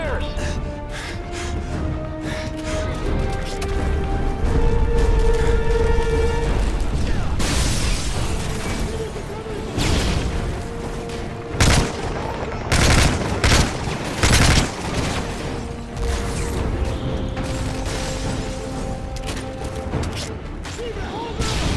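Heavy cover fire in Call of Duty: Modern Warfare 3 in a courtyard battle: rapid automatic gunfire and loud booming explosions mixed with a musical score, with soldiers shouting over the combat.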